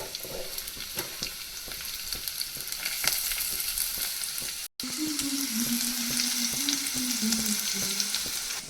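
Steady, close sizzling of onions frying in oil, a continuous crackle with a brief cut midway and a low hum entering afterward.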